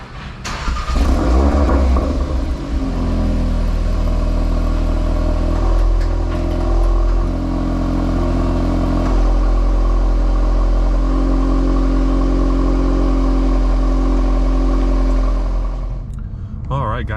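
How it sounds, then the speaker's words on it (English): A 2023 VW Golf R pulling away and accelerating, heard from inside with a loud, steady low engine drone and shifting tonal hum that rises and holds for most of the run, fading slightly at the end. "setting off in the Golf R"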